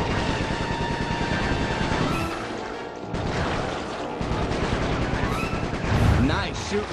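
Rapid bursts of gunfire and impacts in the video game Sly 3: Honor Among Thieves, dense and continuous over game music and effects, with a voice talking over the action.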